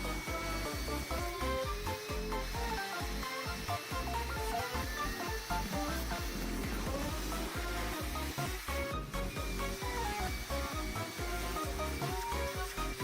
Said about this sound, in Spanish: literalmente acaban de ver cómo la aspiradora tiene la potencia suficiente para poder aspirar el agua.